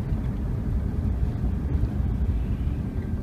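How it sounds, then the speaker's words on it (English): A passing garbage truck gives a low, steady diesel rumble, close and continuous. No one speaks over it. "Garbage truck."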